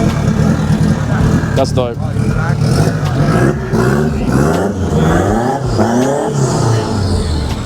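A modified Toyota Starlet at a Sydney car meet revs hard several times, its engine pitch sweeping up and down in quick close bursts while people talk excitedly over it.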